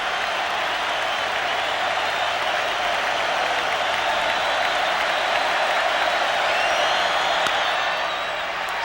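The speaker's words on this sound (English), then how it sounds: "Now the crowd will really turn it up a notch with 2 strikes." Loud, sustained stadium crowd noise with cheering and applause at a 1988 NLCS Game 7 baseball game as the count reaches two strikes, a steady roar that swells slightly near the end.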